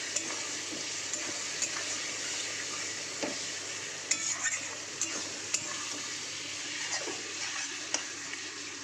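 Turmeric and chili powder fry with onions in a pan for a mutton dish, giving a soft continuous sizzle and scattered scraping stir strokes, close but fairly quiet, with no talking.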